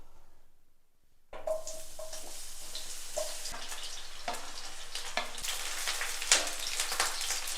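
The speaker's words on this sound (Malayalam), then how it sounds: "ഇനി നമുക്ക് ഈ വഴുതനങ്ങ അങ്ങോട്ട് ഇട്ട് കൊടുക്കാം" Eggplant pieces dropped into hot oil: a second of near silence, then a sudden loud sizzle that keeps going, with scattered crackles and light stirring clinks on top.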